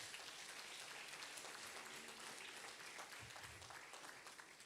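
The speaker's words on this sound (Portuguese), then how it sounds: "Aplaude a Deus, aplaude." A church congregation claps in praise to God, a dense, continuous wash of applause heard from a distance at low level, with a few muffled low thumps partway through.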